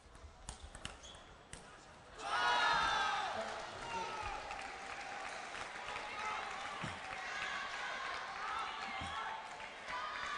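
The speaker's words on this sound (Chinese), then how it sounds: "全体的运动员也站起来，啊，再给崔庆磊鼓掌" Spectators at a 2015 China Super League table tennis semifinal between Weiqiao and Bayi break into sustained applause after a few scattered claps and ball sounds, with the clapping filling the hall under steady commentator talk.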